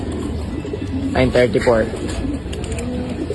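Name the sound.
racing pigeons cooing as they return to the loft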